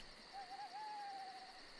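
A single drawn-out, wavering owl hoot from a children's story, clear and fairly quiet over a soft background hiss.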